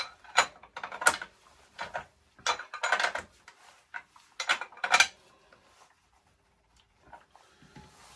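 A spanner tightening a back-wheel axle nut, a series of close metallic clicks and ratcheting scrapes in short bursts, fading to quiet near the end.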